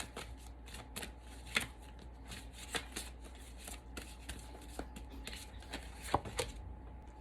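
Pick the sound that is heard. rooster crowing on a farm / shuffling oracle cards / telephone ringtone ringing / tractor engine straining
shuffling oracle cards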